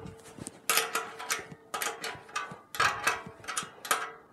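Tightening a part on a SOGAMBO 2.0 ceramic grill with the supplied wrench: a series of close, repeated ratcheting metallic bursts in an uneven rhythm, with no talking.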